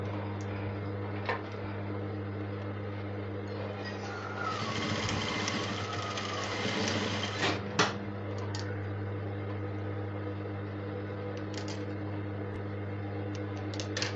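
A sewing machine topstitches fabric with a continuous low motor hum and a rapid needle chatter that rises for a few seconds in the middle, with occasional clicks.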